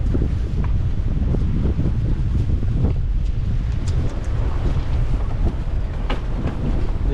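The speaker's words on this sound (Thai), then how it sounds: "ลมมาแล้ว ลมมาแล้ว" Strong sea wind roars across a fishing boat offshore, a loud, continuous buffeting rush with gusty surges throughout and no voices.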